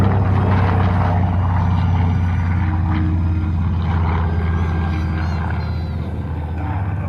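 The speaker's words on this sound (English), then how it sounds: "Here comes the Avenger again." A World War II Avenger propeller aircraft flies past at an air show, a loud steady rumbling engine drone that holds for several seconds and then eases slightly.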